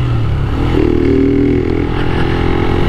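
Motorcycle engine running steadily at close range, with a brief rise in revs partway through over a constant low rumble and some clattering; no voices.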